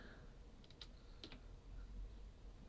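Faint keyboard typing at a computer during a Transport Fever game session, a few quick clustered key clicks over a steady low background hum, with no voices.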